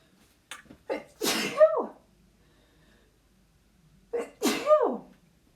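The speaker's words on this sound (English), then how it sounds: "I'm going to sneeze." Two loud sneezes close to the mic, each with a short sharp intake before it, separated by about two seconds of quiet.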